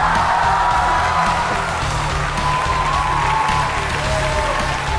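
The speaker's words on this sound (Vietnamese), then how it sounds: "Dành một tràng vỗ tay để đón chào quay trở lại sân khấu ba vị khách mời trong chương trình hôm nay." Studio audience at a Vietnamese TV game show applauding to welcome three guests back to the stage, a loud sustained wash of clapping with faint cheers, steady throughout.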